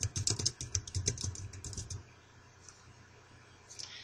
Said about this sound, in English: press the backspace button, and type Jake Richards.